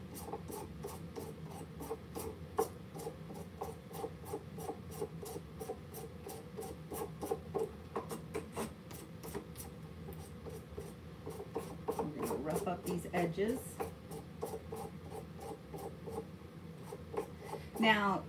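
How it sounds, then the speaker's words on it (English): A painted wooden rolling pin is sanded by hand in rapid repeated rasping strokes, close and steady, with a voice speaking briefly partway through. "We're gonna sand."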